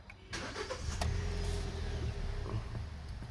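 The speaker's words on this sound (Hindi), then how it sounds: "अब हम गाड़ी को स्टार्ट करेंगे" A Hyundai Venue 1.2 car engine, which has a clutch switch fault, starts up with a brief cranking burst before settling into a steady low idle rumble close by, with no talking.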